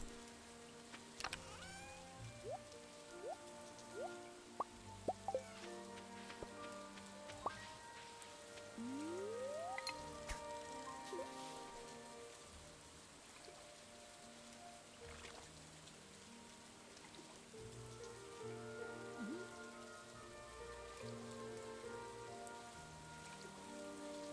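Rain in a farming video game, Stardew Valley-style, patters steadily at low volume under soft background music with occasional game effect sounds.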